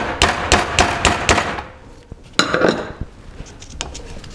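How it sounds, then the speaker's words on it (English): Several sharp metallic taps from a hammer driving a small plastic valve seal installer onto a valve on a Harley-Davidson M-8 engine with an S&S 128 kit, evenly spaced at first, then a few scattered follow-up knocks. "a few little taps with the hammer"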